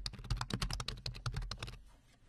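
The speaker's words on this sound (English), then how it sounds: "When you're done typing, hit enter on your keyboard or click the Go button to complete your search." A computer keyboard being typed on while entering a search, a quick run of close, crisp keystrokes that stops near the end.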